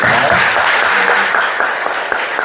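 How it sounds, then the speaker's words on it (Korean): A crowd applauds steadily, many hands clapping together in a dense, continuous wash of sound with no voices. "우리 다 같이 박수로 환영하도록 하겠습니다"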